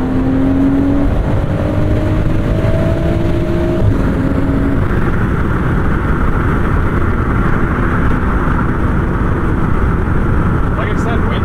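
A 2023 BMW Z4 M40i engine drones loud and close as the car accelerates, with rising harmonic tones early on under a heavy, steady roar mixed with road and wind noise.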